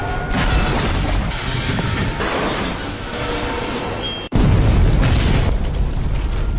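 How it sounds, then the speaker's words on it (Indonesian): Fuel tanker truck exploding in a film, a dense loud rumble building then broken by a sharp instant blast, followed by a heavy roaring boom that stays loud to the end. "Setelah truk meledak"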